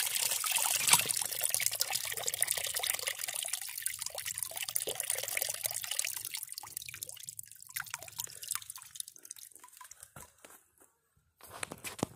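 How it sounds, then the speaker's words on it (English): Water pours and splashes from a pipe at a trail shelter spring, a steady hissing trickle that gradually thins out and drops away near the end, with faint crunching underneath. "So you just turn this on. There goes the water."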